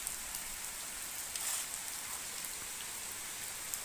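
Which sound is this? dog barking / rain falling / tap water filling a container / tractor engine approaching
rain falling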